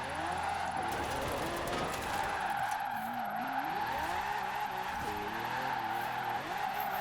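Lamborghini supercar in Forza Horizon 4 drifting with steady tire squeal and skidding over a constant engine drone, shifting engine pitch throughout, loud and continuous.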